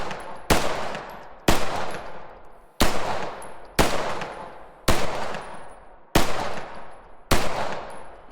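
C96 pistol shots from the video game Squad 44, seven loud, sharp single cracks spaced about a second apart, each followed by a long decaying reverberant tail.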